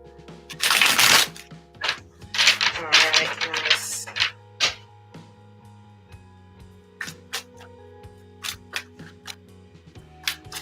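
Tarot cards are shuffled by hand, with a dense riffling burst followed by scattered clicks and light taps of cards being squared and set down, close up, with faint background hum.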